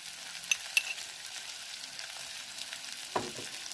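Onions fry in a pan seasoned with salt and turmeric, giving a soft continuous sizzle with a few small clicks and a brief stirring scrape near the end.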